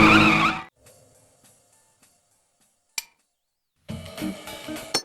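Tires squeal and skid from a Honda Civic in ToCA Race Driver 3, a loud opening burst that cuts to near silence with a sharp click, then a second skid returns near the end.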